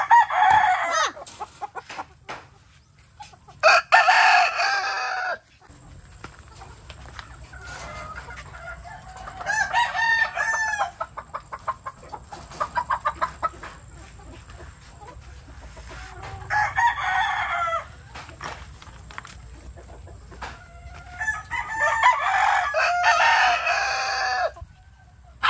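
Chickens cluck and a rooster crows repeatedly nearby in a battery-cage breeding area, with bursts of calls separated by quieter stretches of background hum.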